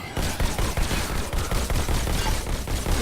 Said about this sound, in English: Which means you can let the bullets fly.